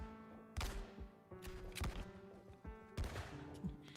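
Bursts of gunfire from the video game Arknights, several sharp shots and rapid volleys in an irregular rhythm over a droning game soundtrack, fairly faint in the mix.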